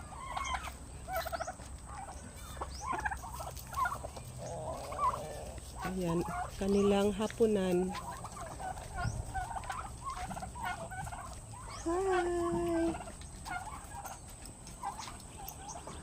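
Turkeys gobble in bursts among chickens, including Rhode Island Reds, in a backyard garden pen. Brief calls repeat across the scene while a person speaks a few words nearby.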